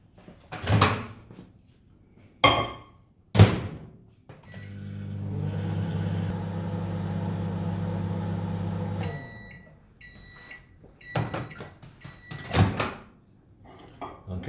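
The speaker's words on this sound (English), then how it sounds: "And then I'll microwave this one for 1 minute." A microwave oven heats a carrot or gingerbread mug cake: a few sharp door and handling clunks, a steady mid-level hum for about five seconds, then a run of high electronic beeps, with more clicks after.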